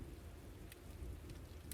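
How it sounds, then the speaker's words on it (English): Steady rain falls on stone and hard ground, a dense, even patter with occasional brighter drop hits, heard faintly and alone. "Cold drops fall from the sky. They strike the stone and the hard earth."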